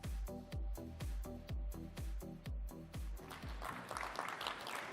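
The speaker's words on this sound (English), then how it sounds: "but then you guys actually clapped" A conference audience breaks into applause at a SaaStr Annual workshop, a dense wash of clapping rising over the last second and a half after a series of heavy, evenly spaced thumping beats.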